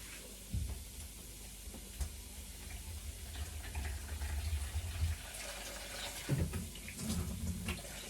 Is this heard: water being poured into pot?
yes